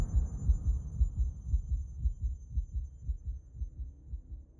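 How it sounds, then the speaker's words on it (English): Heartbeat sound effect during a loading screen in the video game Pathologic 3: Quarantine, a steady, deep, muffled thumping pulse repeating continuously at moderate loudness with no voices. "The heartbeat really doesn't add much suspense to the loading bar"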